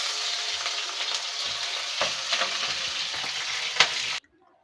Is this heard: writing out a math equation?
no